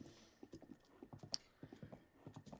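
A horse's hooves clip-clop along a dirt trail in The Legend of Zelda: Breath of the Wild, with a steady run of soft beats and one sharp click partway through.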